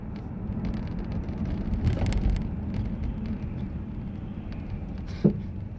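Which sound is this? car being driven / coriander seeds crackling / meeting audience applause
car being driven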